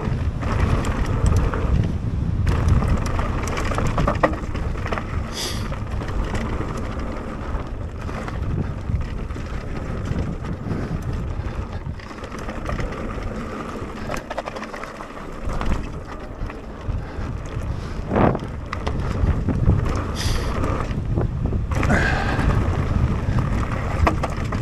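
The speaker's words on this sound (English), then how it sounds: "Oh, there's a nice little headwind there." Wind roars and buffets the microphone while riding into a headwind, a loud, continuous broadband rush with slight surges and no speech.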